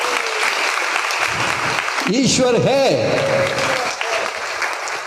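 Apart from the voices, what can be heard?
congregation clapping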